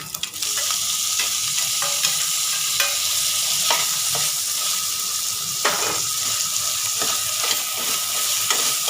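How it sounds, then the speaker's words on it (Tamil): Tomato, green chilli and mint leaves sautéing in a pan, a loud continuous sizzle close up with repeated scraping strokes of a spatula at an uneven rhythm; no talk. "இப்போ இதை ஒரு வதக்கு வதக்கிக்கலாம்"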